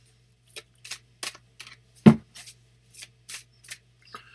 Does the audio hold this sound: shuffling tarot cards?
yes